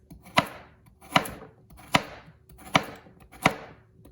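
A knife slices carrots into thin pieces on a cutting board, five sharp, evenly spaced chops close by with short pauses between them, no voices.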